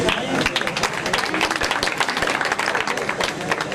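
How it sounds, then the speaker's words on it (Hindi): Crowd clapping at a computer centre's annual cultural function, close and uneven with individual sharp claps standing out in a busy, continuous burst. "हाँ तालियां बजाइए।"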